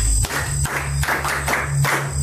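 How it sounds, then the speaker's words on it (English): Students in a dimly lit classroom clap their hands together in a steady, rhythmic beat of loud group claps over a constant background hum. "Clap hands for her."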